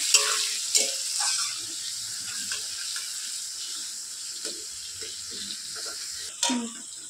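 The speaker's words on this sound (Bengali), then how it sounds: "আমি পেঁয়াজটা লাল করে ভেজে নেবো।" Onion frying in oil for a Bengali mutton dish gives a soft, steady sizzle with occasional stirring clinks and a louder scrape near the end, close and fairly quiet.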